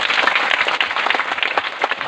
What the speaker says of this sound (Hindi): तो जोरदार ताली बजाओ।